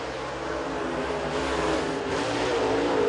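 Race car on the Volunteer Speedway oval during qualifying, its engine droning steadily and loud throughout with a sustained mid-pitched roar.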